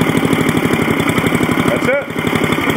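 A Yardman snowblower engine runs at a steady, rhythmic, thudding idle up close, with a brief higher sweep near the end.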